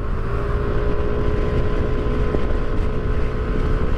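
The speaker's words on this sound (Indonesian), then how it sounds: "Yamaha NMAX khususnya, itu raungan mesinnya khas banget." A Yamaha NMAX Turbo scooter engine roars steadily and loudly up close, a constant droning hum with wind buffeting across the microphone.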